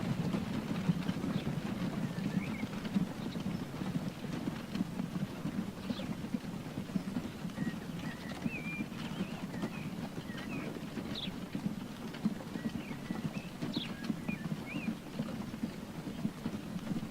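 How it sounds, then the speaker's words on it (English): Horse-drawn mail carts in the Transport Fever video game give a faint, continuous clip-clop of hooves within a soft ambient bed, with light bird chirps scattered over it. "The American horse carts you see are not part of this line."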